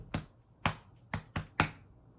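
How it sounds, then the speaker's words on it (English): Five crisp, sharp body-percussion strikes, likely finger snaps or pats, land in an uneven rhythm over about two seconds, close and clear with no talking. "Body percussion is striking the body to produce various types of sounds."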